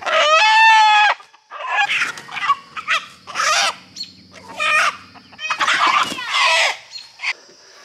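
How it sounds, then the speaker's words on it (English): A rooster gives a loud, close crow, then several roosters and chickens follow with a run of separate clucks and squawks in quick, uneven bursts. "I'm hunting roosters."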